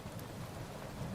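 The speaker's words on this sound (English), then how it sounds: "Then came the rain, sheets of it, screaming down." Rain falling in sheets during a storm, used as an effect in a horror audiobook: a steady, dense wash of rain with low rumbling underneath, continuous and fairly soft throughout, with no voice over it.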